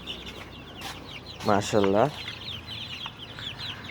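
Brahma chickens, including golden-coloured birds, cluck nearby with a louder drawn-out call in the middle, over a soft background of farmyard chatter, while a person speaks briefly.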